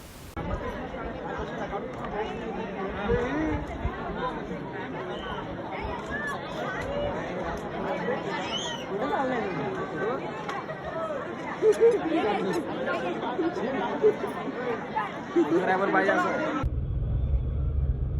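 A large crowd chatters constantly at Ekvira temple on New Year's Day, with many overlapping voices in a busy open-air hubbub. The crowd sound cuts off near the end, leaving a low rumble.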